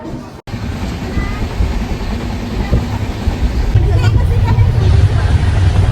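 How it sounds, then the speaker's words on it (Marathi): A train arriving at a station rumbles steadily nearby, its low mechanical roar building slightly louder toward the end, with a murmur of crowd chatter underneath. "आपली ट्रेन आलेली आहे"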